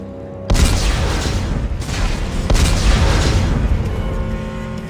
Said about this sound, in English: And detonate.